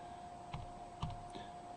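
A few soft, separate button clicks on a calculator as an equation is typed in, quiet and close over a faint steady electrical hum, with no talking.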